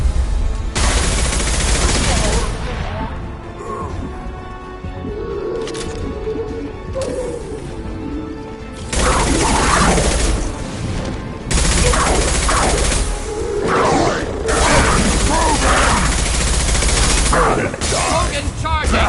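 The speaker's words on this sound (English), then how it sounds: "Taking heavy fire!" Heavy gunfire in a Mass Effect 2 battle: loud, dense bursts of shooting and impacts that come in waves, dropping briefly before surging again, with some voices mixed in.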